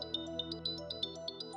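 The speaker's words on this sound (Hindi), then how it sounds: "राहुल, प्रियंका का फोन है, प्लीज उसे बताना मत कि तुम यहाँ हो।" A phone ringtone plays a quick repeating electronic melody of bright chiming notes over a sustained tone, steady and fairly quiet.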